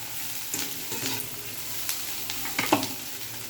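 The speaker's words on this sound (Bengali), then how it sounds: "দিয়ে দিল সানরাইজ পাস্তা মশলা" Pasta with Sunrise pasta masala being stirred in a frying pan, with soft scraping and a faint sizzle, a few louder clinks near the end, no talking.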